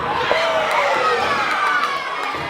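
A crowd at the 365 Combat Championship cheers and shouts in a loud, continuous roar, with high children's voices yelling throughout.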